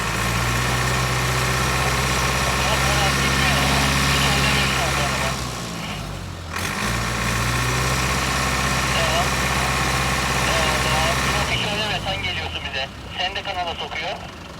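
Car engine at a snowy, stormy campsite idling loudly up close with a deep rumble, then revved in bursts as it strains, while people call out and talk over it.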